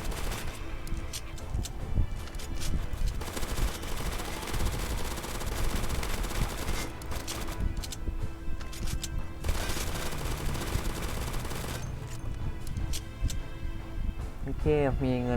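Near-continuous bursts of weapon fire from the zombie shooter game Zombie Uprising rattle through the whole stretch, dense and steady under someone talking throughout.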